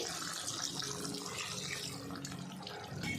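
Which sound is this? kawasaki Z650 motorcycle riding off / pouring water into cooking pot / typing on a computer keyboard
pouring water into cooking pot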